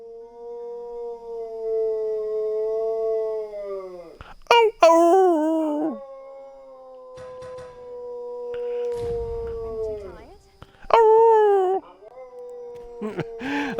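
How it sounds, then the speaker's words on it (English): A puppy whines and howls for attention in long, drawn-out wavering cries, close by, broken by a few sharper yelps and short pauses. "I got a puppy here that is demanding attention."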